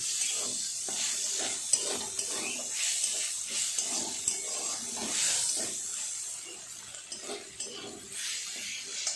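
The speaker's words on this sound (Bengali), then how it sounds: "দিয়ে আর একটু ভালো করে নাড়াচাড়া করে নামিয়ে নেব।" Fried eggplant with neem leaves being stirred in a wok, a continuous close hissing sizzle with shuffling, scraping strokes of the utensil throughout.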